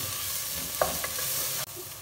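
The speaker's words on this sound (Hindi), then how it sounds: "अब हमारे अनियन और शिमला मिर्च दोनों अच्छी तरह से फ्राई हो गए हैं" Chopped onion and capsicum (green bell pepper) fry in a pan with a steady close sizzle, broken by a couple of brief scraping stirs and a short drop in the sizzle near the end.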